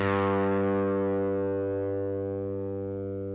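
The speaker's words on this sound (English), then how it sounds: "The fifth string should sound like this." One electric guitar string, the fifth string tuned down to G, rings out on a sustained note with a bright, slightly gritty tone, slowly fading over a few seconds.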